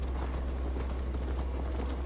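Horse hooves clip-clop at a steady walking pace in Assassin's Creed Valhalla, the soft repeated thuds sitting over a constant low rumble with no voices.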